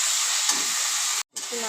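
Hot water poured into a frying potato and soybean mixture for soybean muithya, making a loud continuous steamy hiss and sizzle up close that cuts out briefly near the end, then resumes more quietly.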